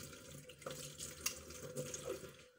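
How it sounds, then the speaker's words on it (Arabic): Water is poured into a cooking pan for a fish tagine, a soft, brief splashing trickle heard up close and quiet. "ندير واحد شويه ديال الماء"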